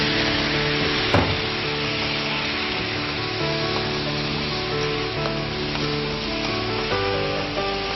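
Fish curry masala sizzles and fries in a pan with a little water added, a steady close hiss with a sharp clack near the start and faint stirring scrapes throughout, no talking.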